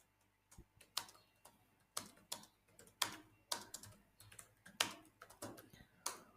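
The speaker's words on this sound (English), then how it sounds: "let's type in a random text which is wider." Keys clatter on a computer keyboard while text is typed into a spreadsheet, a quick irregular run of crisp clicks in small bursts, close and quiet against a faint electrical hum.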